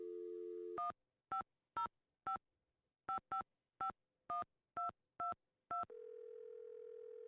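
A telephone line in Nancy Drew: Secret of the Scarlet Hand gives a dial tone, then a string of about a dozen sharp keypad dialing beeps in uneven rhythm, then another steady line tone at the end.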